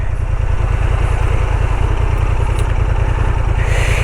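A Honda Transalp 750 motorcycle idles off-road, a loud, steady low thrum with rapid even pulsing throughout, close up and alone with no talk.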